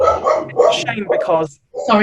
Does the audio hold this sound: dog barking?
yes